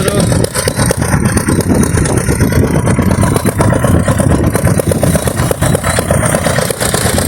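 Diesel engine of a power tiller running on a farm, giving a loud, continuous chugging drone that stays steady without pause.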